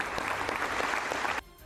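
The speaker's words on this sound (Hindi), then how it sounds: "सभी अपनी कुर्सियों से खड़े हो गए और तालियां बजाकर उनकी हौसला अफजाई की" Members of the Australian parliament applaud after Zelenskyy's speech, a dense, steady round of clapping that cuts off abruptly near the end.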